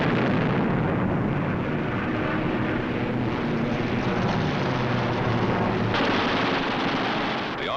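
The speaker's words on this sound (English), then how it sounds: "With the touch of the finger on the stick, a camera and 8 machine guns are put into action." Eight wing-mounted machine guns of a WWII fighter plane firing in one sustained roar, dense and loud throughout, blended with engine noise and no breaks.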